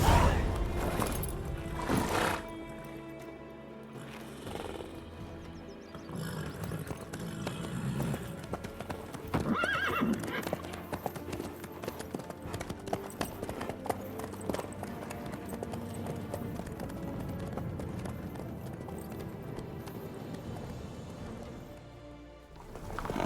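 Horse hooves clip-clop steadily in The Witcher 3 video game, a continuous trotting rhythm under game music and ambient noise, with occasional louder accents.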